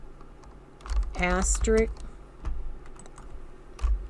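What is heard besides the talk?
typing on a computer keyboard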